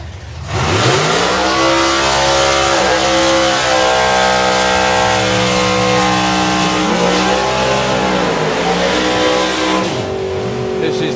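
Gasser drag racing cars rev hard at the Dragstalgia drag racing event, their loud engines rising and falling in layered, rumbling blasts, with voices talking underneath.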